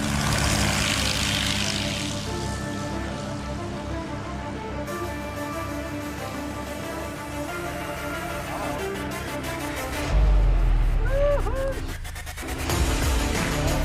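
A propeller airplane flies and comes in to land, its steady engine drone filling the scene loudly throughout, with a heavier rumble near the end as it touches down.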